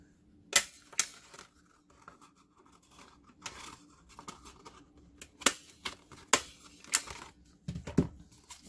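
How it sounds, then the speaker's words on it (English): A handheld stapler punches through paper while a spirit-week hat is assembled, producing a series of sharp, close clacks spaced irregularly over several seconds, with quieter paper rustling between them and no voices. "I'm going to staple just so that it's nice and quick."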